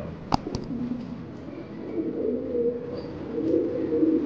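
King, pouter and Siraji pigeons coo in a low, continuous murmur close by at a large fancy pigeon farm in Bangladesh, with one sharp click near the start.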